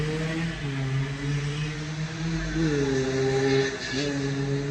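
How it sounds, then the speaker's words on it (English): A passing motor vehicle, taken to be a motorcycle, drones steadily throughout with a pitch that shifts as it goes by, fairly close and continuous, heard outdoors during a morning walk. "have to wait till all the noise, motorcycle go by"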